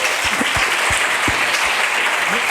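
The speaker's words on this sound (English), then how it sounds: "can we hear a round of applause for Steffi and Leo for the presentation?" A conference audience at an Impact Hub entrepreneurship keynote gives a steady, dense round of applause for presenters, with many hands clapping at once and no break.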